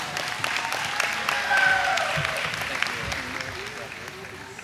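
Applause fills a college commencement ceremony for elementary and early childhood education graduates, a moderate, steady wash of clapping from a large audience with some voices mixed in.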